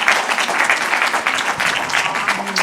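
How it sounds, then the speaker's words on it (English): Audience applause for a woman named Linda at a gathering, dense steady clapping from a crowd that holds evenly throughout. "She gets an applause."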